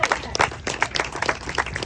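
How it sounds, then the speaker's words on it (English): Dense, lively hand clapping from an audience at a public meeting honoring the first African American architect in Virginia, a close, continuous burst of applause. "Can we get a hand clap there?"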